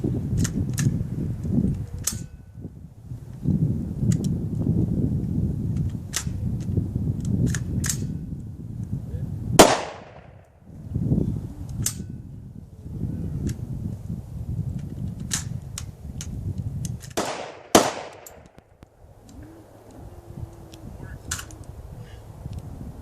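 Sharp gunshots from a handgun firing lead bullets in a shooting test, a couple of loud distinct reports standing out near the middle and later, over steady outdoor background noise and faint clicks.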